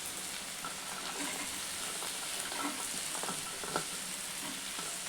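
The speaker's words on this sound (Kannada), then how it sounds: "ಈ ಮೆಣಸಿನ್ಕಾಯಿ ಒಂಚೂರು ಫ್ರೈ ಆಗ್ತದೆ" Green chillies sizzle and fry steadily in a pan for a village-style biryani, a continuous close crackling hiss with faint stirring scrapes and no voices.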